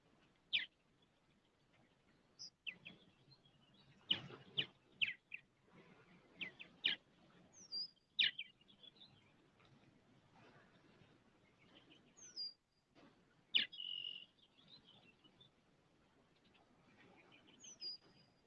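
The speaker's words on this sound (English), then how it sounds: "I was listening to the birds." Faint, scattered bird chirps and short calls come through a quiet outdoor background, sounding fairly distant.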